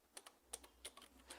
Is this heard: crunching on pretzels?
no